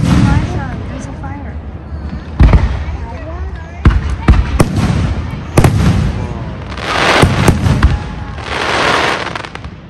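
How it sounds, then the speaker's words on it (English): Canada Day fireworks display with repeated sharp bursts and crackling booms at varying distances, some loud and close, others rumbling farther off, while people talk over the show. "Watch the fireworks."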